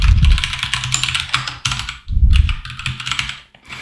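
Fast, continuous clatter of keys as code is typed on a computer keyboard, loud and close, with one brief pause midway.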